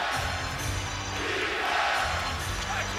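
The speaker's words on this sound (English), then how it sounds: "that gets the crowd fired up for the first time" Arena crowd noise at a Heat at Knicks NBA basketball game, a steady broad roar with scattered shouts, sustained and loud throughout.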